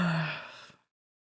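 A single drawn-out yawn, loud and close, with a breathy exhale that fades to silence in under a second.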